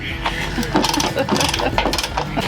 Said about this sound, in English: I'm gonna use the German torque wrench